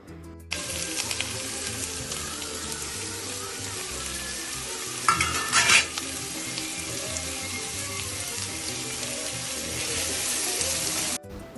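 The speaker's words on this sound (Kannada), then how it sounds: "ಎಣ್ಣೆ ಬಿಸಿಯಾಗಿದೆ ಈಗ ಈರುಳ್ಳಿ ಹಾಕ್ತಾ ಇದ್ದಾರೆ ಈಗ ಚಿಕ್ಕದಾಗಿ ಕಟ್ ಮಾಡಿರೋ ಅಂಥದ್ದು" Finely chopped onions frying in hot oil while making pepper chilli chicken, a loud steady sizzle with a brief burst of stirring in the middle, no talking.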